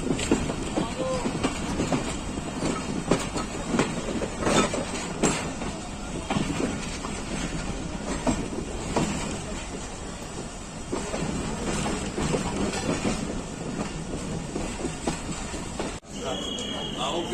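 The Pakistan Express passenger train rolls along steadily toward Jhelum, with continuous rumble and rhythmic clatter of wheels on rail joints, heard from inside the train with a voice over it.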